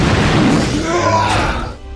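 A railgun fires with a heavy, booming blast and a crashing rumble that rings out and decays over a couple of seconds.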